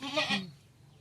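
A single short bleat from a native village goat, close and fairly loud, quavering for under half a second before fading into quiet.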